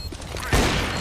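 A sudden burst of rapid gunfire erupts midway after a quieter stretch, a firefight in Counter-Strike: Global Offensive, then continues as a dense rumble.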